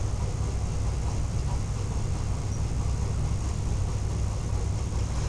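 An electric sewing machine stitches a party wear suit, its motor giving a steady, continuous whirring drone from start to finish, with no talk.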